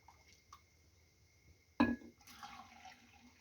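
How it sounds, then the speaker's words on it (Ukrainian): Water poured into a glass jar over tomatoes for preserving: a sudden splash and gurgle, then a short, soft trickle, close and quiet in a kitchen. "І так само наливаю другу банку."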